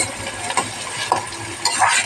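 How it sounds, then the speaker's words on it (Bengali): Onions frying in a pan at a home stove, a soft continuous sizzle with occasional stirring scrapes and clinks, moderately close. "দেখো পেঁয়াজটা ভাজা ভাজা হচ্ছে"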